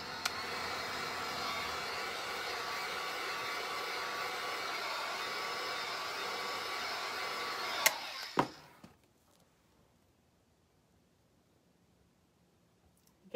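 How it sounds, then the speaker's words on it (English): A heat gun blows a steady, broadband hiss onto tiles on a bathroom cabinet for about eight seconds, close and even. It then cuts off with a couple of clicks into near silence. "And then shoot with the heat gun again."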